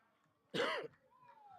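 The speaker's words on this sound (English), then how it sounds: "That's a commentary cough." A single short, sharp cough from a football commentator close to the microphone breaks an otherwise quiet moment.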